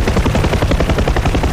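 Rotors of a Huey helicopter in the DCS World flight sim pound loudly and close in a fast, steady rhythmic chop with heavy low-end thumping.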